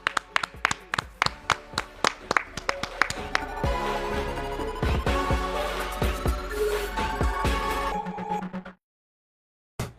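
Hands clapping at the close of a sports podcast: a series of sharp, close claps in an irregular rhythm, then a denser stretch of clapping under music and other sounds, ending in sudden silence.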